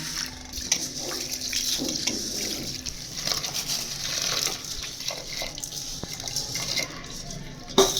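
Washed moong beans and split dal poured into heating water in a pot, giving splashing and running-water sounds with clatters of a vessel, close and moderately loud.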